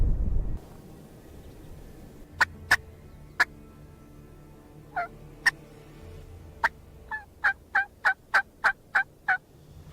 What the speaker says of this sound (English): Sound like a turkey gobbling back behind us across this ravine.